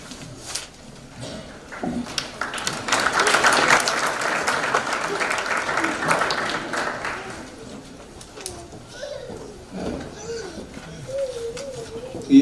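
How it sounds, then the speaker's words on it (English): Audience at a high school honor society induction ceremony claps in a moderate burst that swells and then tapers off, while a voice speaks over the room. "Please hold all applause so the whole row has their name called."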